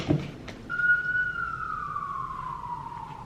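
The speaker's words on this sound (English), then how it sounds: "Cool. Sirens." A siren wails in a long, steady tone that slowly drops in pitch, with faint traffic rumble beneath it.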